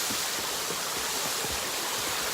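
A waterfall on a hiking trail pours in a dense, steady rushing roar, loud and close with no voices.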